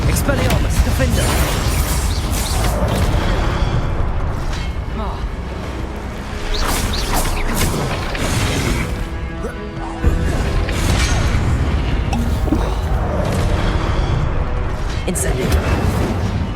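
Spell blasts and fiery explosions from Hogwarts Legacy combat, a dense, continuous roar of booms, crashes and whooshes with repeated impacts throughout.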